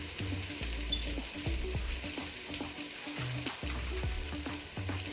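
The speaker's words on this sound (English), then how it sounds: "You're going to let that saute in the oil." Curry potatoes sauté in hot oil in a pot, a continuous close sizzle broken by frequent scraping and clanking of a spoon against the pan, with no talking.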